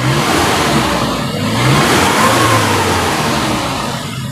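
A 2006 Suzuki Carry Futura pickup engine revs loud and close at the exhaust, a steady rough roar that swells and eases slightly.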